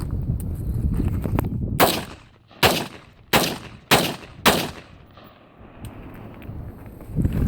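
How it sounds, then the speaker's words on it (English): A Radical Firearms AR rifle fires PPU rounds in five loud, sharp shots at irregular intervals, each with a short echo, while wind buffets the area between shots. "I'm gonna shoot a few of these PPU rounds just to do the function test."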